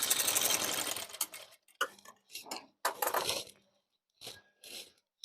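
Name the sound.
sewing machine stitching a dress alteration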